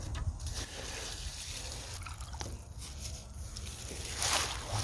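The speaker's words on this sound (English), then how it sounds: "So you just gently swish them around" Lettuce leaves swished gently around in a basin of water, a continuous soft sloshing and trickling close by with a brighter splash toward the end.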